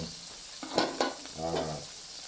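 Garlic and ginger sizzle in hot frying oil with a stir of the pan, the crackle swelling in short bursts up close before easing back.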